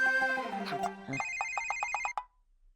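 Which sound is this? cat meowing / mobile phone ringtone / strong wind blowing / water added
mobile phone ringtone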